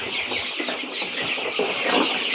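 A crowd of 21-day-old domestic chicks in cages cheeps and clucks continuously up close, a dense, busy chatter with no pauses.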